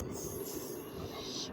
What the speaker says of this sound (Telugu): పల్లెటూరు పల్లె వెలుగు ట్రైన్